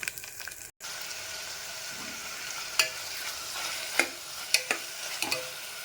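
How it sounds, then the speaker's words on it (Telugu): Ivy gourd pieces frying with onions in a pan make a soft continuous sizzle, with a brief dropout early on and then several sharp clinks and scrapes as a spoon stirs them. "ఉల్లిపాయలు వేగిపోయాయి కదా, ఇందులో దొండకాయలు కూడా వేసి ఫ్రై చేసేసుకుందాం"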